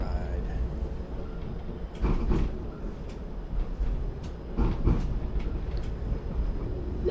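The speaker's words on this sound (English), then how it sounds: "This is my first streetcar ride." Riding a Toronto streetcar in the evening: a continuous low rumble of wheels on track, with occasional rattles and clunks.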